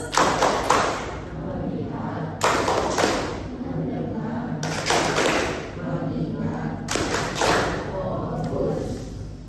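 A classroom clapping pattern, tepuk fokus, performed by a group of students, with several bursts of loud clustered claps separated by short gaps while voices chant along.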